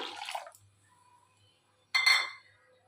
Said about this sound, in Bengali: কড়ার মধ্যে আমি জল দিয়ে দিলাম